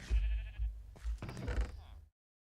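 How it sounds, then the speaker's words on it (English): Sheep bleating in the Minecraft Vault Hunters modpack while the animals are being bred: several short, loud, wavering game bleats in quick succession, close and clear, ending abruptly with silence. "So I'm gonna breed my sheep."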